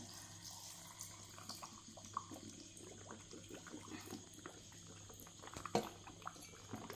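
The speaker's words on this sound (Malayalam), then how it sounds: "ഇനി ഞാൻ ഈ തിളപ്പിച്ചാറിയ വെള്ളം ഇതിലേക്ക് ഒഴിക്കുവാണ്" Cooled boiled water is poured into a jar of jaboticaba fruit with cinnamon and cloves for homemade wine, making a faint, soft trickle and splash with a few small clinks.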